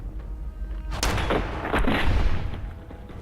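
Gunfire in the Fallout 4 video game, a burst of heavy shots and thuds from about the one-second mark, fairly loud and dense, with no talk over it.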